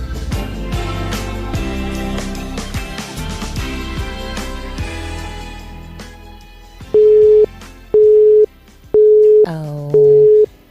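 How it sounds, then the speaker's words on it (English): A telephone busy signal plays after a call fails to go through, following music at the start; four loud, evenly spaced beeps with short gaps fill the second half. "George BB's contact and number is not going through"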